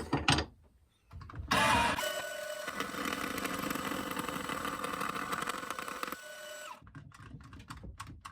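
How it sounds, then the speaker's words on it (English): A 14 TPI bandsaw blade cuts through brass stock in a steady, rattling, buzzy grind for several seconds, close by, with quieter handling noises before and after. "a good 14 TPI bandsaw blade does quick work with this brass."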